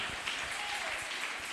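A church congregation applauds in praise, a brief dense patter of clapping from many hands, steady and fairly close throughout.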